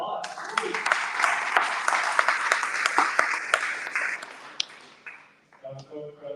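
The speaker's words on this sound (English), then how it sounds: "Let's give everyone a round of applause." A crowd applauds for several seconds at the close of a live session on building a web presence with AI, dense clapping with a few sharper claps, then fading out as a voice begins to speak.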